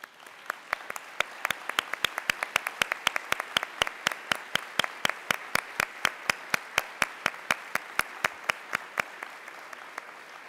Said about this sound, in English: Please stand for some well-deserved applause.